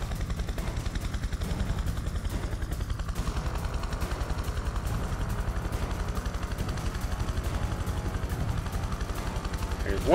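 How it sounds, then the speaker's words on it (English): Military helicopters in the PC game Prototype 2 give a continuous rapid rotor chop over rumbling combat noise and gunfire that stays dense and loud throughout, while voices talk over it. "Look at these choppers."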